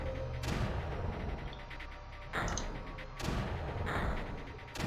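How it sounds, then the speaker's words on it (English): Mortar batteries firing in the strategy game Creeper World, three or four heavy booming bursts spaced a second or so apart, each with a rumbling tail, fairly loud with no talking. "The mortars are doing an insanely good job"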